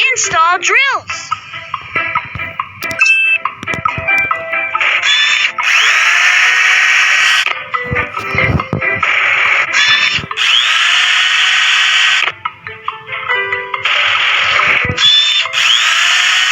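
Drill attachments being fitted onto heavy machinery such as a bulldozer in a children's educational game, heard as repeated loud whirring power-drill bursts with short pauses and mechanical clicks.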